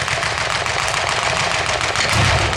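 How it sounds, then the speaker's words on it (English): American light tanks, a Chaffee and an M5, fire their guns during a Tank Fest battle display. A dense, continuous roar of gunfire and engine noise fills the scene, loud and steady with no clear gaps. "Now, the American light tanks are flanking, laying down some fire there, the Chaffee got a shot away."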